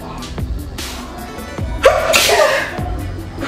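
A single loud, close sneeze bursts out in a room, preceded by a quick intake of breath and followed by quieter background sounds.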